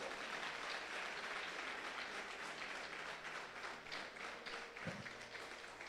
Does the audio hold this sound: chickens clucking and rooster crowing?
no